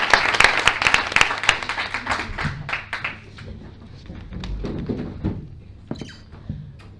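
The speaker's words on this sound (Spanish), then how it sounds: "Así que nada, un aplauso para ti." A small audience at a talk on women's health breaks into applause. Dense clapping at first thins out into scattered claps, with faint background murmuring.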